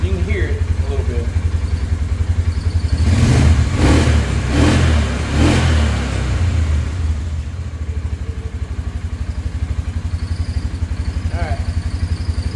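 A Polaris 570 EFI engine with an idling fault runs at about 1250 rpm, a loud, rapid, even mechanical pulse that briefly swells and roughens before settling back to a steady idle.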